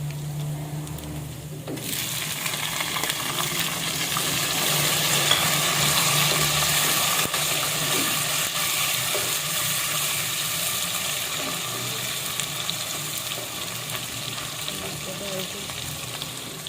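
Tomatoes frying in a pan for matar pulao start with a sudden burst of loud hissing sizzle after a short quiet, then a steady dense crackle that holds to the end with faint stirring.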